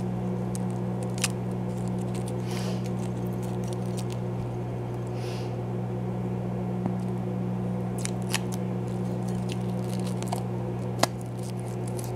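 Plastic protective coating peeled off a treadmill circuit board, giving sparse faint crackles and ticks over a steady low electrical hum, with no talking.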